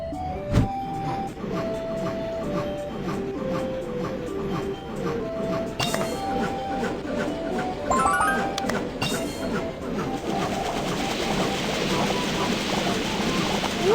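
Mobile train video game with a train running through seasonal scenery: steady rhythmic rail clatter and clinking under bright chiming game tones and music, a busy, constant mechanical bed for about fourteen seconds.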